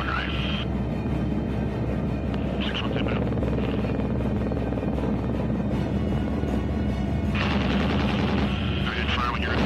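Gunfire in a war movie battle scene: constant loud rattling shots blend into a thick wall of combat noise, with bursts that swell in places.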